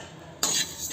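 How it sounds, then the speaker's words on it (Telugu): Flax seeds, coriander seeds and red chillies dry roasting in a pan over low flame, with a sudden burst of scraping and rattling as they are stirred midway, then lighter rustling. "స్టవ్ మీద బాండి పెట్టుకుని ఆయిల్ వేయకుండా అవిసె గింజలు డ్రై రోస్ట్ చేయాలి."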